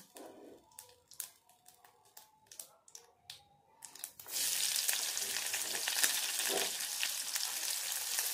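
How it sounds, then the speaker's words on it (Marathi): Chopped onion sizzles in oil in a kadhai for a vegetable masala, preceded by a few sharp stirring clicks before a loud, steady frying hiss takes over for the remaining half of the clip. "इथे आपल्याला कांदा खूप जास्त फ्राय नाही करायचा आहे।"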